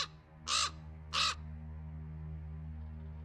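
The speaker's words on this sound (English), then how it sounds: "The damn bird again." Two loud, harsh crow caws ring out close together in The Black Mirror II, set over a steady low game hum with no talking.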